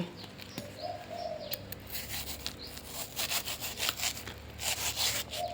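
Crisp rasping crunches repeat as a knife saws through a crisp watermelon, the cuts growing louder and more rhythmic, with a dove cooing softly in the background.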